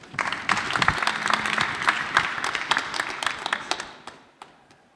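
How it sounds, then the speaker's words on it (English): An audience at a startup pitch competition final in London breaks into steady, dense applause that fills the room, then tapers off toward the end. "Round of applause, please."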